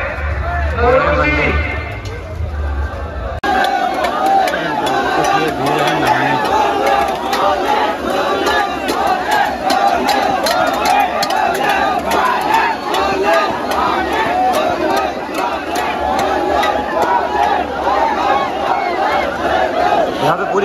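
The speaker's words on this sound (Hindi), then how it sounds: "यहाँ पे बहुत ज़्यादा भीड़ है आप लोग देख सकते हैं" A large, dense crowd fills a temple during Sawan Monday puja, loud continuous babble and shouting that jumps up after a few seconds and stays at a roaring level throughout.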